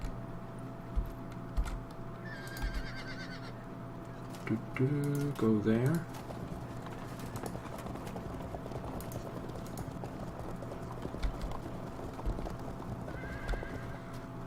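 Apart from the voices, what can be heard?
horses neighing and hooves in video game Field of Glory 2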